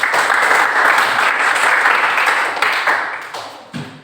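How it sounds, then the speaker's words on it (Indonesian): Classroom applause for classmates who have just spoken, a dense steady clapping from a group of students that runs the whole stretch and tapers slightly near the end. "berikan dulu aplaus buat teman-teman yang telah berbicara"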